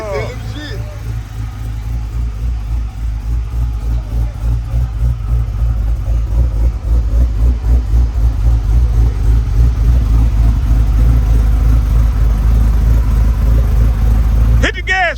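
A 1988 box Chevy on 28-inch wheels with an LS 408 stroker V8 idles at its first start-up, a loud, steady low rumble that runs throughout with faint voices in the background.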